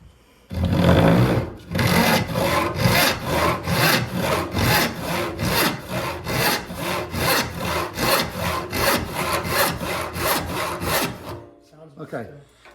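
Steel file rasping across the teeth of a rip handsaw being sharpened and restored, a steady run of about twenty quick, even strokes, loud and close, ending abruptly.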